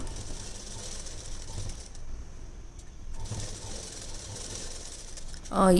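A sewing machine runs steadily while stitching the side seam of a silk blouse, a continuous close mechanical whir that stops briefly midway before resuming.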